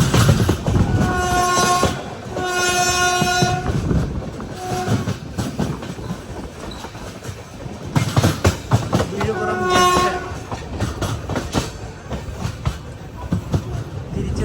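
A train rumbles and clatters as it slows to a stop at a station, with a horn sounding twice and squealing brakes, close by.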